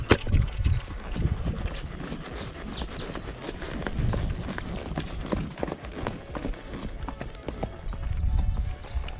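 Horse hooves clip-clop on the ground at a farm pasture, a steady loose patter of footfalls with occasional birds in the background and no talk.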